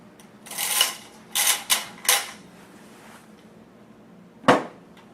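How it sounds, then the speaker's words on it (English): An M16 spring and buffer are pushed back into the lower receiver, giving a few sharp metallic clicks and scrapes in a quick cluster, then a pause and one last louder clack, close up and alone. "Placing the spring and buffer back into the lower receiver."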